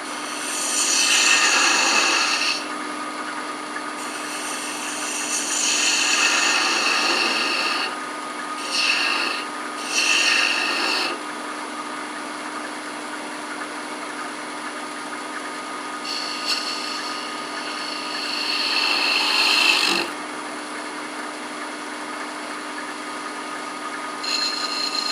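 A lathe turning tool cuts a cove on a wooden globe ornament, making hissing, scraping bursts over the steady hum of the spinning lathe, close and without talk.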